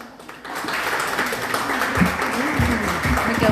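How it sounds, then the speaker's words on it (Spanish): Audience applause at a binational symposium on identity and borders, a steady broad wash of clapping throughout with some voices mixed in. "Aplauso, por favor."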